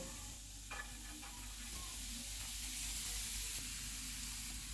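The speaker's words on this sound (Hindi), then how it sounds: "इनको 30 सेकंड तक भूनेंगे। इसमें गोभी डालेंगे।" Cauliflower florets with ginger, cumin seeds and turmeric frying in hot oil, giving a steady close sizzle with faint stirring clinks.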